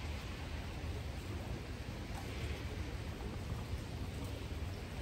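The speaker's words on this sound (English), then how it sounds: "So it's raining, it's spring here in Japan, but actually it's really cold." Steady cold spring rain falling in Japan in late March, a continuous even hiss of drops close by with no other sounds over it.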